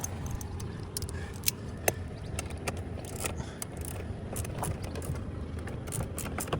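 A small ratchet works on the ignition of a Chevy Colorado, giving a steady run of fine clicking and mechanical rattle close up with no talk.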